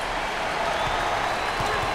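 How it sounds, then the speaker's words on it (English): A basketball crowd at an NCAA tournament game between Yale and Auburn gives a standing ovation, a dense wash of clapping and cheering that fills the arena, with a commentator's voice faintly under it. "Standing ovation. You've got to love this reaction by the crowd."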